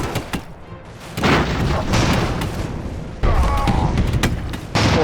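Airship cannon fire in Airships: Conquer the Skies, a string of sharp booming shots and crackling impacts building into two loud sustained bursts of battle noise, with no talking.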